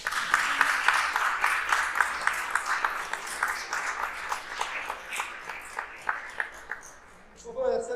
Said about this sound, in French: Alors, on va applaudir déjà Salomé.